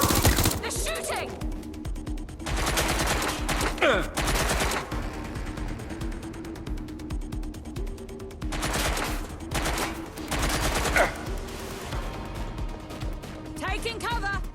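Enemy gunfire during a firefight in Watch Dogs: Legion, with loud, dense bursts of automatic fire that come in repeated waves. Shouted voices sit under and between the volleys.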